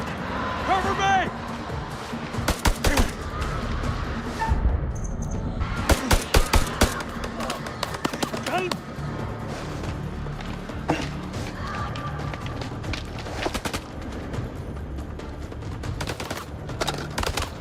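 Automatic gunfire crackles in a video game, coming as repeated full-auto bursts that cluster loudly in the middle stretch and return near the end, with a voice talking over the action.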